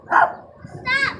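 A dog barks loudly nearby in one short, sharp bark, and a person's voice follows right after it.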